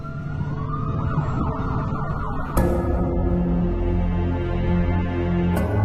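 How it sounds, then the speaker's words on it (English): An ambulance's wailing siren rises and sweeps steadily, loud and close, with traffic rumble beneath and a couple of sharp knocks. "There's an ambulance, and they were going out to get Wayne"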